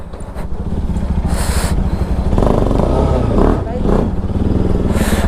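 A motorcycle with an aftermarket exhaust after a fresh service, revving loudly and close, its engine note rising and falling steadily while people talk over it.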